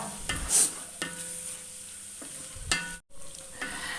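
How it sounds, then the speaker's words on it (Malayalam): Beef dry roast being stirred in coconut oil, a steady close sizzle broken by a few sharp scrapes of the spoon against the pan, with no talking. "വെളിച്ചെണ്ണ ഒഴിച്ചു കൊടുക്കാം നമ്മൾ വെളിച്ചെണ്ണ തന്നെ ഒഴിക്കണം കേട്ടോ അതാണ് ഇതിൻ്റെ ടേസ്റ്റ് കുറച്ച് വെളിച്ചെണ്ണ ഇപ്പോൾ ഒഴിച്ചു കൊടുക്കാം എന്നിട്ട് അതും ഒന്ന് ചേർന്ന് ഒന്നും കൂടി ഡ്രൈ ആക്കി ഇളക്കി ഇളക്കി എടുക്കാം"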